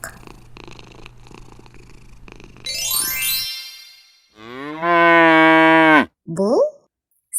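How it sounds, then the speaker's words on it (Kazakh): A cat's purr and short meow give way to a loud, drawn-out cow moo that swells and holds for over a second, followed by a shorter second low call. "Сиыр."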